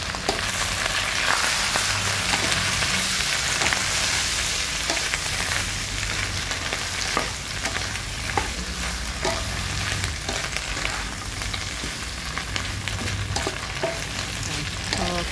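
Chinese kale with crispy pork sizzles and hisses while being stir-fried in a pan, a steady close frying noise with occasional scrapes and clinks of stirring throughout, no voices.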